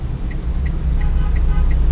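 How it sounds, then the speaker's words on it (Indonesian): Triple tone turn signal of a 2019 Toyota Calya G MT ticking in a steady run of five faint clicks about every third of a second, over a low idling engine rumble. "di mobil-mobil Eropa juga ada yang namanya triple tone signal buat sennya juga ada"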